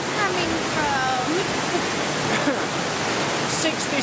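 Water falls steadily inside a cave, a continuous rushing hiss that fills the space at close range, with faint voices drifting over it.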